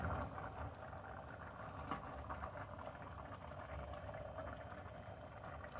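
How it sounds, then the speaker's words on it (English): Pepper jelly bubbles at a steady boil in a pot, a soft, even stream of popping and simmering that stays close and constant throughout with no voices. "if you don't have a candy thermometer, let it boil for about 8 minutes"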